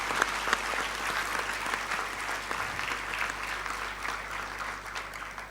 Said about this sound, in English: Can we have a thunderous applause